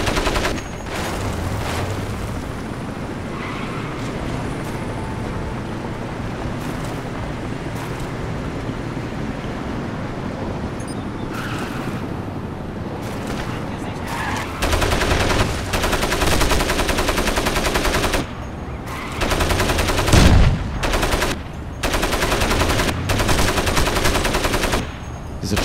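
Gunfire in the Crysis first-person shooter, with repeated bursts of automatic fire and single shots over a steady outdoor ambience, getting louder and denser in the second half.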